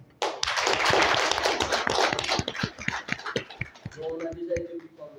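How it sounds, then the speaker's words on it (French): Loud, dense applause from a conference audience at an entrepreneurship certificate ceremony, sustained clapping with individual sharp claps standing out, then thinning toward the end as a few voices and scattered claps remain. "Nous allons faire un tonnerre d'applaudissements forts et ordonnés à nos conférenciers"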